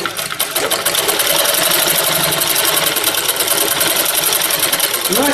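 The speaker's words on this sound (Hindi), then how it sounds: "हम ऊपर करके एक दाब सिलाई डाल देते हैं, थोड़ा अंतर छोड़ के" A sewing machine runs steadily as it sews a topstitch on a belt during tailoring work, giving a loud, continuous rapid mechanical whirr and needle chatter with no break.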